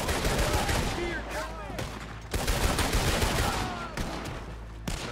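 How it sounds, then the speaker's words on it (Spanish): Rapid automatic AK-47 fire from a mod in Red Dead Redemption 2, a dense sustained fusillade of loud shots with heavy echoing tails, pausing briefly and resuming, under faint game noise. "Un pequeño tiroteo aquí en Ballet para probar su funcionalidad"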